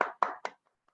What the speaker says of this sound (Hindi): क्या मोहनी जी के लिए ताली बजा सकते हैं?